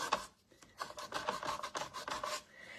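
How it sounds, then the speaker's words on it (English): Coarse low-grit sandpaper rubbed back and forth by hand on a surface, giving a series of close, dry rasping strokes in an uneven rhythm with short pauses between them. "It's a very low grit sandpaper. Let me just do this over here so I'm not doing it on the, and you just sand it like this."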